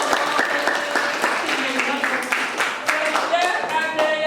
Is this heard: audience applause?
yes